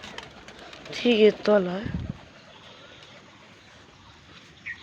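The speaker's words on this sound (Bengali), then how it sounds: "সেই দেখো ওদের ছাদে সব পায়রা বসে রয়েছে, এই দুটো জোড়া পায়রা।" A pair of pigeons perched on a rooftop give two short, close, throaty coos in quick succession, with a person speaking briefly nearby and quiet outdoor ambience after.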